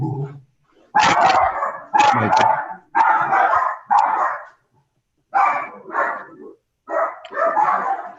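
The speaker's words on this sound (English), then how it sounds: "I do have two dogs." Two pet dogs bark loudly and close by in a rapid run of sharp, repeated barks and yips, with short pauses between bursts.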